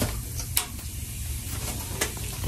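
A utensil scrapes and stirs food sizzling in a home cooking pot. Crisp clinks and scrapes come in short bursts over a steady frying hiss, heard up close.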